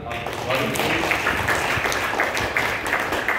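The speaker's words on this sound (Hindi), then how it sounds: "एक बार जोरदार तालियां" A crowd at an Arya Samaj Vedic bhajan gathering claps loudly and continuously, a dense, even wash of applause that fills the whole short stretch.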